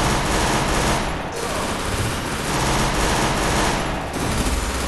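Sustained automatic gunfire in the battle-royale game Free Fire forms a dense, loud, continuous rattle with only brief dips, close and dominant, with faint talk buried underneath.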